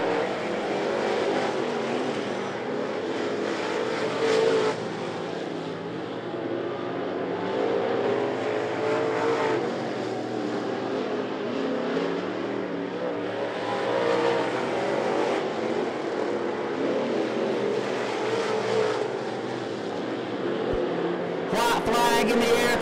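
Race cars running on the straightaway at I-75 Raceway, a continuous engine roar that swells and fades as cars pass, with a commentator talking over it throughout.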